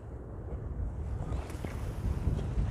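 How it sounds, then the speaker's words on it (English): Wind gusts buffet the microphone beside a lake during winter fishing, a continuous low rumbling roar with gentle swells and no voices. "I didn't expect it to be as windy as what it is"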